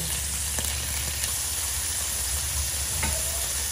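One-eighth kilo of pork frying in a pan for monggo with chorizo, giving a continuous close sizzle and hiss with a few faint stirring clicks and no talk.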